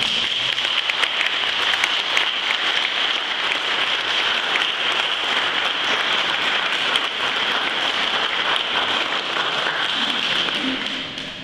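Dense, steady applause fills the room for a couple's golden wedding anniversary celebration, a continuous wash of many hands clapping without pause and with no voices on top.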